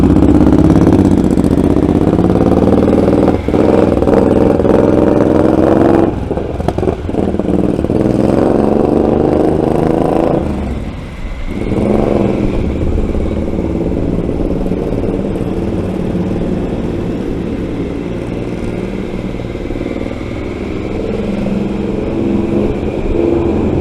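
Motorcycle engine rumbling steadily aboard a Puget Sound car ferry slowing toward Bremerton, a loud, continuous low drone with engine and ship machinery noise throughout and a brief dip partway.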